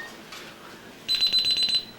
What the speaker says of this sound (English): the alarm will sound whenever the door is opened